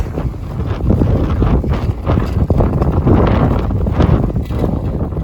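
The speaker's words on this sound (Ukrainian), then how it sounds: "Вітер дуже сильний," Heavy wind gusts in France, at nearly night, batter the microphone in a continuous, rough roar that rises and falls, loud and close, with no voices.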